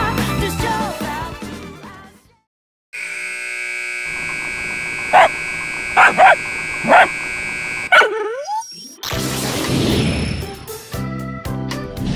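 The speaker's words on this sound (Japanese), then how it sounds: "犬だけど立派なペルソナ使いなんですよ" Koromaru, the dog from Persona Q2, gives three short barks in a row, set among electronic tones and game music. Bursts of busy sound come before and after.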